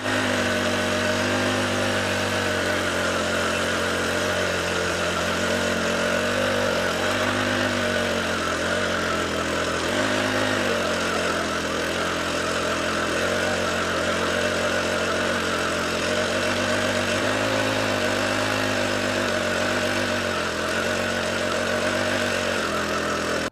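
The engine of a back rotary power weeder (tiller) runs steadily, with a loud, close, continuous mid-pitched drone and a slight rise and fall in revs.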